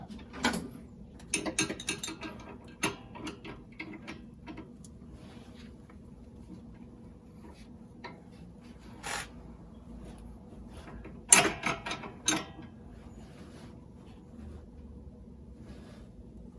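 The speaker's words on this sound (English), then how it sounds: "now I'll switch to an 18mm wrench, tighten it up to what should be around 35 or 40 foot-pounds" An 18mm wrench tightens a sway bar end link on a Honda Pilot in a quiet garage, giving scattered metallic clicks and short ratcheting bursts between long pauses.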